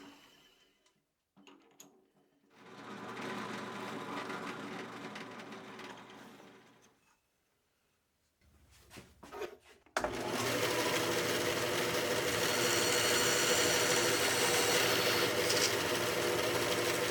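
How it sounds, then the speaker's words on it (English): A small drill bores a pilot hole to size for a finish-nail axle in a wooden sanding-block lever. The steady motor whine comes in a few-second burst, then a louder, continuous run after a short pause, close and alone. "I just need to drill the pilot hole to the right size."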